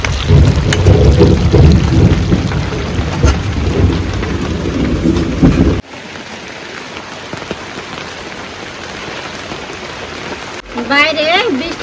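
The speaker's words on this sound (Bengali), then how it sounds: "বাইরে বৃষ্টি পড়লো" Heavy rain outside with rolling thunder, loud and dense for several seconds, then softer steady rainfall before another burst; a voice is briefly heard near the end.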